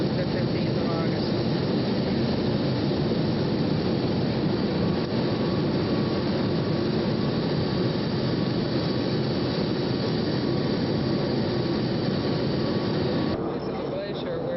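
Steady, loud drone of a light aircraft engine in flight over a glacier in August, continuous broadband roar with no breaks, a voice faintly mixed under the engine noise.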